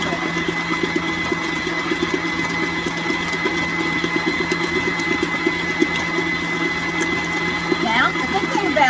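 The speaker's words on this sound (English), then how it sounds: "the good thing about the stand mixer is I can walk away and get something while it's mixing" A stand mixer steadily whirs as it mixes a bananas Foster bites mixture with rum, bananas and caramel, a constant motor hum with a rhythmic beater rattle, while a person talks over it.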